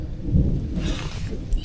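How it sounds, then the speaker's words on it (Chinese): Rolling thunder during a summer afternoon thunderstorm on a snowy mountain summit, a low rumble that swells and fades within a second or two, with rain hiss in the background. "现在还是一直在打雷耶！"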